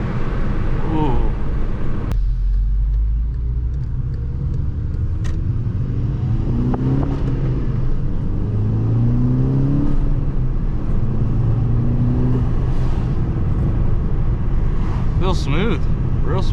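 A Volkswagen MK6 GTI with new spark plugs pulls away on a test drive, its engine rising and falling through several rev sweeps under steady cabin noise while someone talks over it.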